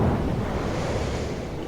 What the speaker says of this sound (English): Fighting through the relentless storm